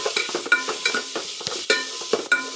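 Curry leaves and tomato sautéing in a pan for chicken kulambu, with scraping stirs and soft crackling sizzle in short irregular bursts, close and moderately loud, no voices.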